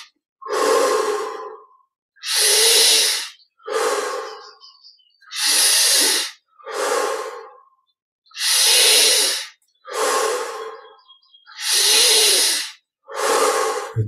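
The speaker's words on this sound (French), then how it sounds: "20 respirations profondes. Inspire par le nez, expire par la bouche." Deep, slow breaths during a guided yoga energization meditation, inhaled through the nose and exhaled through the mouth, about ten close, loud breaths in a steady rhythm with short silent gaps between them.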